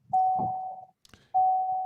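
A television gives two sustained electronic beeps, each a steady tone close up, separated by a brief pause with a faint click.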